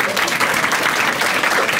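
Audience members at a Marathi stand-up comedy show clap in a dense, even burst that stays loud and steady for under two seconds, with a faint murmur of crowd voices mixed in.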